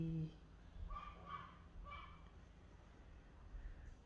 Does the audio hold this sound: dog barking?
yes